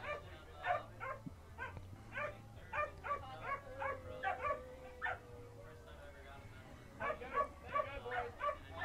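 Dogs bark and yip repeatedly in short, uneven bursts at an outdoor barefoot water ski event. The barking is moderately distant and sits over a low background hum.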